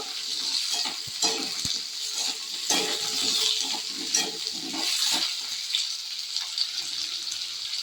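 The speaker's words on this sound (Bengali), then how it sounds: "আলুগুলো একটু পেঁয়াজের সঙ্গে একটু ভেজে নেব।" Potatoes fry with onions in a pan, a steady close sizzle and crackle broken by repeated scraping and stirring strokes, with no talk.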